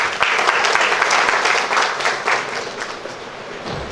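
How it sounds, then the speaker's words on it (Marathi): An audience at a Marathi business gathering applauds a speaker with dense, loud clapping that fills the room and tapers off slightly toward the end. "जोरदार टाळ्या त्यांच्यासाठी"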